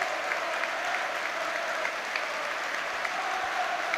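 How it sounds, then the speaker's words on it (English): Football crowd at a Hibernian v Hearts Premiership derby applauding a young Hearts fan, a steady, dense wash of clapping from the stands that holds at an even level throughout. "round of applause for the young 13-year-old Hearts fan, Devin Gordon."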